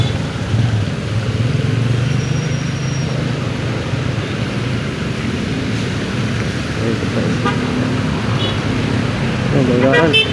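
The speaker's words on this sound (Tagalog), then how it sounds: "Traffic sa buong EDSA." Heavy road traffic on EDSA, a steady low rumble of engines with occasional horn toots, continuous and close, while people talk over it.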